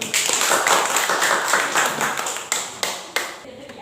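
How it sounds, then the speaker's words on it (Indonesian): A classroom of pupils claps for a classmate stepping up to the front, a moderate flurry of hand claps that thins out into a few separate, distinct claps at the end. "Tepuk tangan dulu."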